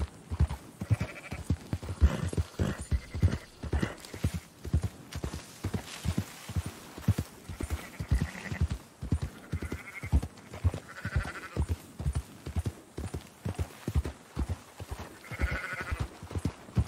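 Sheep bleat repeatedly over a steady patter of hoofbeats, several animals calling near and far across a Red Dead Redemption 2 scene with no talking.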